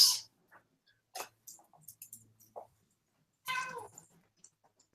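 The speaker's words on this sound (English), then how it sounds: "Was that a cat that I just heard, Alan?" A cat gives a short meow amid faint clicks and small handling noises, quiet and fairly close, with brief soft sounds scattered around it.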